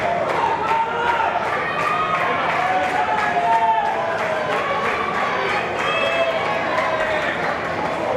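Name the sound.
wrestling arena crowd cheering for the champion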